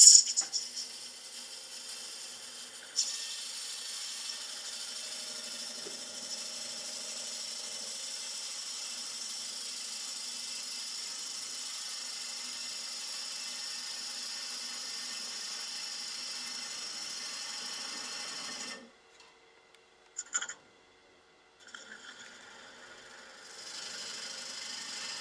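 A wood lathe spins an off-center bowl while its face is sanded under power, giving a steady mechanical whir and hum that runs unbroken for most of the stretch, then drops away and restarts near the end.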